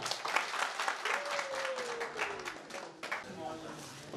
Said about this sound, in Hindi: तो एक दफा और तालियां बजाइएगा।